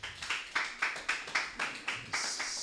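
A church congregation claps together during a Sunday service, sharp hand claps landing in a steady, even beat about twice per second, close and fairly loud.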